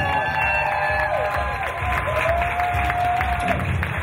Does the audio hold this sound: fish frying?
no